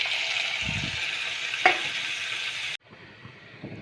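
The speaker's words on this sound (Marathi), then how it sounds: "आता आपण भाज्या टाकून घेऊया तेलात" Vegetables tossed into hot oil in a kadhai for pasta masala, a bright close sizzle with a clatter of stirring, then a quieter, softer hiss after an abrupt drop, no voices.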